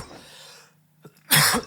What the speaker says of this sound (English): I've had a cough for a whole month